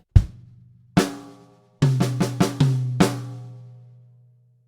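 Slow drum bar, high tom hits and snare strokes spaced apart, then a quicker cluster of tom and snare notes that ring out, played alone at moderate level.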